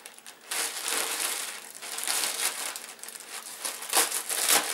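Plastic wrapping crinkles and rustles at close range as a parcel holding an Xbox 360 gamepad is opened. It arrived without a box, only taped up. Steady crackling runs throughout, with a couple of sharper crunches near the end.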